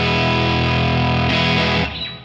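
Electric guitar strums one open chord through a Line 6 Powercab speaker preset, loud and heavily distorted with a thick sustained wash that rings out then gets cut off near the end.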